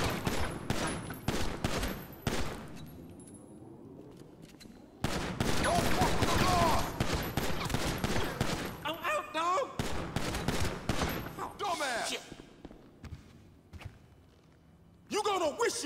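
Rapid bursts of gunfire in a GTA roleplay shootout, loud cracking volleys and automatic fire in clusters with short gaps, mixed with shouting voices.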